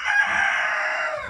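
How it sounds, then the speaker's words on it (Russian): A rooster crows loudly and close by in a barn, one sustained, strident call that fills the whole moment without any talk. "Петухи вообще говорить не дают, растут."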